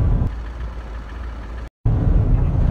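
A VW T6 Transporter's engine pulls and accelerates on the road during a test drive in Namibia, a loud low rumble inside the cabin, cut by a brief dropout before resuming.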